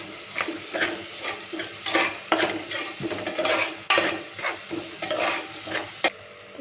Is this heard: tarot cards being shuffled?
no